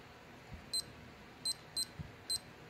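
An Armitron four-button digital watch alarm sounds four short, thin electronic beeps in an uneven pattern, close and fairly quiet over faint background hiss.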